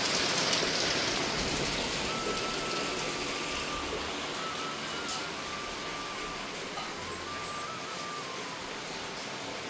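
Rain falls near an umbrella on a rainy evening, a soft, even hiss of drops that holds steady and fairly faint for about ten seconds, with no clear talk.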